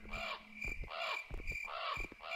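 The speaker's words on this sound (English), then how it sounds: "It's just forest and crows." Crows caw repeatedly in a forest in the video game Leweung, three harsh calls in steady rhythm, fairly close and clear, with a soft ambient drone behind and no speech.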